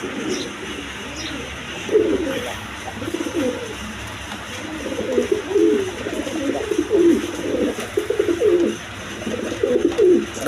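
Several pigeons coo in repeated soft, throaty bursts, close by at a pigeon market, with a faint background hum between calls.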